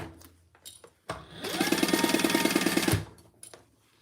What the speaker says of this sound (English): let's stitch this other side exactly like we did